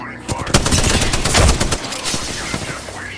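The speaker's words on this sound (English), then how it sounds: "Opening fire." Rapid, close automatic gunfire from Apex Legends: a dense burst of sharp shots for about a second and a half, then scattered trailing shots and game ambience, with brief voice-like sounds mixed in.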